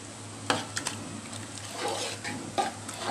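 A wooden or metal spoon stirs winter vegetable khichuri with chopped tomato and green chili in a pot, scraping and clinking a few times over a soft, steady sizzle, close and moderately quiet.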